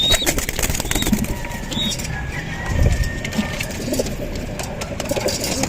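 Pigeons cooing outdoors near an old house on an afternoon round, soft low coos scattered over a backdrop of ambient noise, with a brief flutter and a faint engine hum in the distance.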